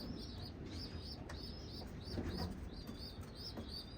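Racing pigeons in a loft give repeated soft, throaty coos in a regular rhythm, with occasional bursts of wing flapping and light chirps against a steady background hum, no talking.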